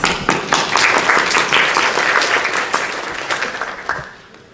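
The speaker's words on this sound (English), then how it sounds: "Another round of applause." Audience applause at a conference session on social protection and public services for women and girls, sustained crowd clapping with sharp individual claps that tapers off toward the end.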